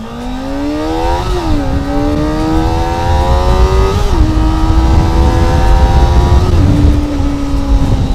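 A Kawasaki Ninja ZX25R revs hard while being ridden, its high-pitched inline-four wail climbing through several clutch-assisted gear changes, loud and close for the whole stretch.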